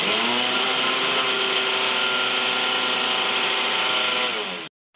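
A mixer grinder whirring loudly and steadily for several seconds while grinding roasted peanuts, then abruptly switching off.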